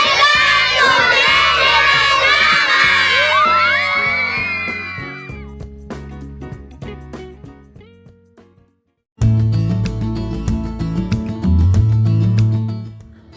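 Crowd of people yelling together on cue at the Umiray Bridge linking General Nakar, Quezon and Aurora, a loud burst of high shouts and cheers that fades, then a pause and a renewed noisy stretch.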